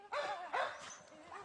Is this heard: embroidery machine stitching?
no